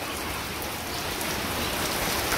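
Heavy rain pours steadily over a Bangladeshi village during the rainy season, a dense, even roar of drops hitting the ground and surfaces nearby, continuous without a break and with no voices.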